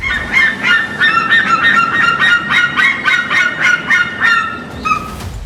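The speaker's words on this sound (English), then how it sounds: "You might hear them before you even see them." Steller's sea eagles in a zoo aviary give a loud, rapid run of harsh, honking calls, repeated about a dozen times in quick rhythm and then fading off.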